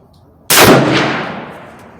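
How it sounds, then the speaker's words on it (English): A single rifle shot, aimed with open iron sights at a target, cracks out sharply and loudly, then a rolling echo trails off for over a second in an otherwise quiet setting. "Second shot, left upper target, and I'm shooting to the iron sight, not the scope."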